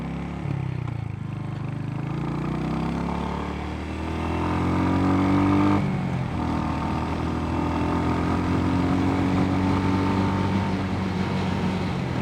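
A Royal Enfield Hunter 350 motorcycle rides through foggy winter countryside in Australia, its engine a steady, close drone that rises and shifts pitch as it accelerates, with continuous wind rush over the whole stretch.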